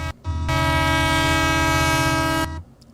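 Train horn used as a train wreck sound effect, a loud sustained blast of about two seconds over rumbling rail noise, starting and stopping sharply.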